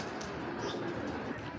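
A big three-eyed female Indian Laldom pigeon coos in low, soft, continuous murmurs, close by, with faint background noise and no talk.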